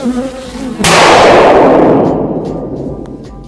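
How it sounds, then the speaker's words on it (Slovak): A housefly buzzes close by with a brief droning whine, then a sudden loud burst cuts in and slowly fades away. "To bola iba mucha, ktorá nemala pozvánku"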